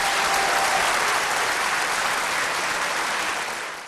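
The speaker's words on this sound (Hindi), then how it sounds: "इस मौके पर हॉल में तालियों का शोर बुलंद हुआ" Sustained applause fills a hall during a Pakistani political gathering addressed by the prime minister, a dense, steady clapping wash that holds loud throughout and tapers slightly at the end, with no voices above it.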